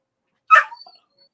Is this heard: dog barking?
yes